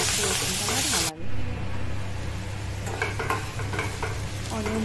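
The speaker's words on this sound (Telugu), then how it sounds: "నెక్స్ట్ కరివేపాకు అండ్ పసుపు వేసుకొని మిక్స్ చేసుకోవాలి." Onions fry in hot oil as curry leaves and turmeric go in for a beans fry, a loud sizzle and hiss giving way to steady scraping stirring with scattered clinks, no talking.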